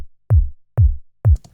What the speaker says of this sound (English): So in this case, a sub layer, so like this, together with one click.